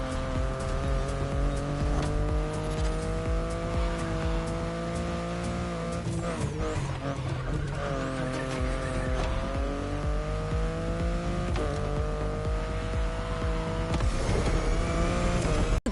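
A car driven hard in The Crew Motorfest, its engine revving up and down through gear changes with tire squeal, sustained and close with no pauses or talk.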